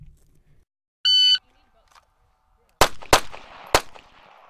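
M9 pistol on a US Army firing range: a short electronic beep signal, then three sharp, loud shots in quick succession, each trailing off in a brief echo.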